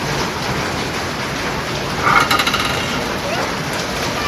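Heavy rain mixed with falling hail makes a loud, dense, continuous roar, with a short burst of sharper hard impacts on a surface partway through.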